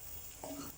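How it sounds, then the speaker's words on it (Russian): Meat frying in hot oil for plov, a soft steady sizzle with a brief stirring scrape partway through, quiet and close, with no talking. "Теперь сейчас буду это жарить."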